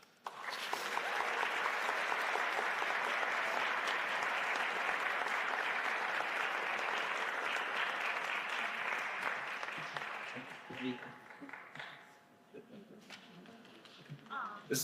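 An audience bursts into sustained applause welcoming Rick Lowe to the stage, a steady dense roar of clapping that holds for about ten seconds before thinning into scattered claps and faint room noise.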